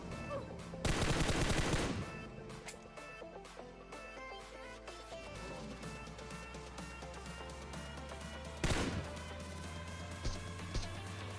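Automatic gunfire rattles out as bots are shot in a video game, with loud rapid bursts near the start and again later over a steady backdrop of in-game tones.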